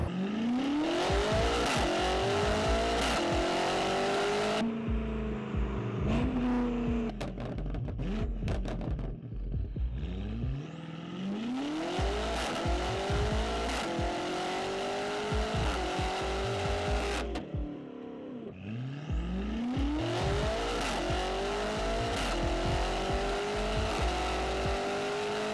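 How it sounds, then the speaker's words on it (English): A tuned BMW M car with a full AW exhaust is driven hard. Loud, rising revs come in repeated pulls, separated by sharp shifts and short lifts off the throttle, with some tire noise between bursts. "And then the full AW exhaust. It's super loud as I expected."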